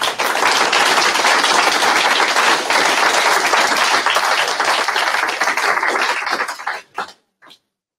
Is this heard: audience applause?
yes